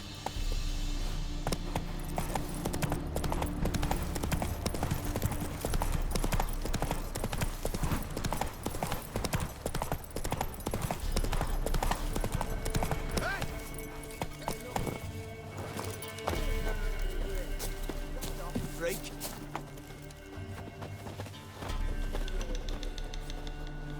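Geralt's horse Roach gallops in The Witcher 3, with a fast, continuous clip-clop of hooves over music and ambience, loud and close for the whole stretch, and voices heard along the way.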